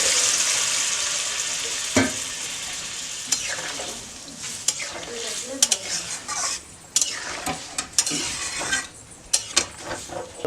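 Hot water poured over mixed vegetables in a hot pan for shahi paneer, with steady loud sizzling, stirring and utensil scrapes, and a few sharp clinks of a spoon against the pan.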